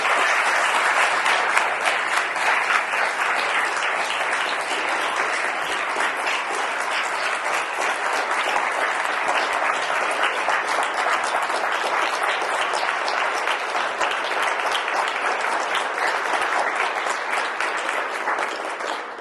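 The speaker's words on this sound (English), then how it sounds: "But give him a round of applause" Sustained audience applause after an interview with Robert Glasper, a steady, dense wash of many hands clapping for nearly twenty seconds with no talk.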